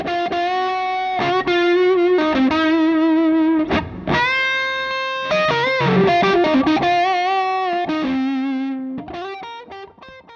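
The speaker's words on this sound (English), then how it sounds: "a fuzz face into an already overdriven loud tube amp," Electric guitar played through a Fuzz Face pedal into an already overdriven, loud tube amp. A thick, buzzing, heavily distorted tone plays a run of sustained notes and quick riffs, loud and alone.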